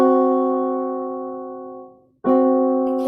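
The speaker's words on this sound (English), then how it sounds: "it was considered to be like the devil's interval because it sounds like this" A tritone interval sounds on a keyboard-like instrument as two sustained notes ringing together and slowly decaying, then cutting off briefly before the same dissonant pair is struck again, clear and close with no talking.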